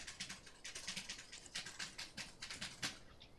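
Mechanical keyboard with Cherry MX Blue switches typed at a quick, uneven pace, a stream of sharp clicky keystrokes heard from a short distance and fairly faint, with no voices.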